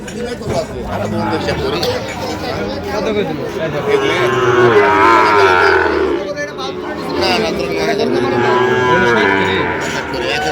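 Cattle moo loudly and repeatedly, one long drawn-out low call after another, over a busy crowd of people talking nearby at a cattle market.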